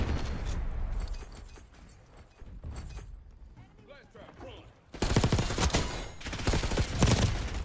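Rapid gunfire in a first-person shooter video game, dense bursts of loud shots at the start and again in the second half, with someone talking over the game noise in between.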